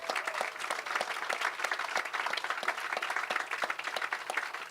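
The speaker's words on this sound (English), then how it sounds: "let's give them a big round of applause." A crowd at an outdoor groundbreaking ceremony for a new Educare facility in Springfield applauds, a steady, fairly faint wash of many hands clapping at once.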